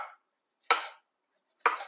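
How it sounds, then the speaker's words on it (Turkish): Three crisp knife chops through mushrooms on a cutting board, spaced evenly about a second apart, close and fairly quiet in an otherwise silent room. "Bütün mantarları bu şekilde doğrayıp tavama alacağım"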